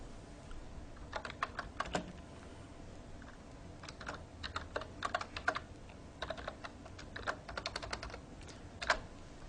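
Rapid typing on a computer keyboard while a Java program is written, close and fairly quiet, with irregular bursts of clicking keystrokes separated by short pauses and no speech.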